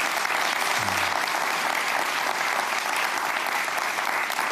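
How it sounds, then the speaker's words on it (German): Studio audience applauding on a German TV cooking competition set, a steady dense wash of clapping that holds at even loudness throughout with no talk over it. "Applaus"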